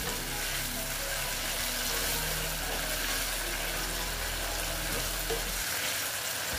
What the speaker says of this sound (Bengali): জল দিয়ে এইবার আমি একটু এটা নেড়ে চেড়ে নিচ্ছি।